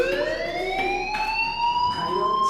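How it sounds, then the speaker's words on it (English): A fire alarm in the video game Life is Strange wails with a steady, slowly rising electronic tone, loud and continuous with no voices over it. "do you hear that fire alarm? That means you should be outside."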